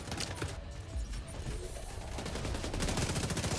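Dense gunfire crackles through a firefight in The Division 2, with rapid overlapping shots and bursts that run without a break and build slightly louder toward the end.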